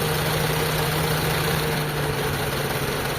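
A Mitsubishi Lancer GSR engine idles with its MAP sensor unplugged, producing a steady, close, low drone that holds unchanged throughout.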